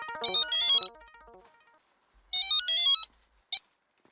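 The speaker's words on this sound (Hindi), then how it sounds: "अब्दुल को फोन लगाता हूँ।" A phone ringtone plays a bright electronic melody twice, with a short pause between, then a brief third chirp before it stops.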